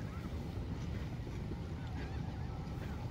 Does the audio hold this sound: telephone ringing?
no